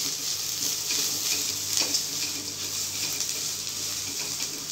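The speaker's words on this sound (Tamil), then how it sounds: "உள்ள போட்டுட்டு லைட்டாக ஃப்ரை பண்ணால் போதும்" Grated coconut fries lightly in a pan while making aval upma, giving a soft continuous sizzle close by with gentle stirring scrapes and no voices.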